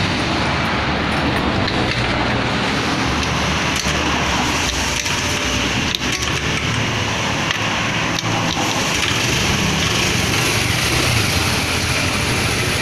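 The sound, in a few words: Vario motor scooter engine running after CVT installation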